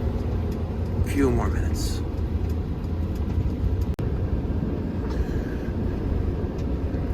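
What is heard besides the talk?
car driving on country roads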